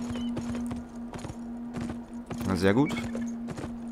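Horse hooves clip-clopping at a brisk pace in the video game Beyond: Two Souls, a series of rhythmic thuds repeating through the clip under someone talking, with a brief whinny near the middle and a steady background hum.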